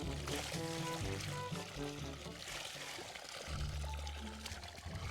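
Water pouring from a pipe, a steady continuous gush heard throughout, partly mixed under tonal music and background voices.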